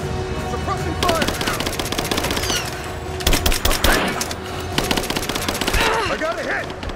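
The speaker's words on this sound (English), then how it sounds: "Suppressing fire!" Dense, rapid automatic gunfire from the Rise of the Tomb Raider video game, sustained bursts of machine-gun and rifle shots with scattered louder cracks over about seven seconds, faint voices mixed in.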